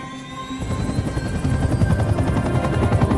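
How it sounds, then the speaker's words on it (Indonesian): A helicopter thrums steadily overhead, its rapid rotor chop loud and continuous, swelling slightly as it passes. "menggunakan pesawat helikopter"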